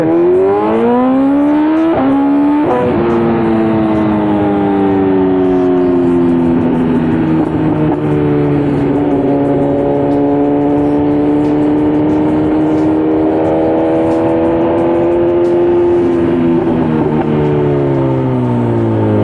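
A carbon-fibre-laden superbike engine revs hard and holds high, loud and close, its pitch climbing and sagging in long sweeps with no talk over it.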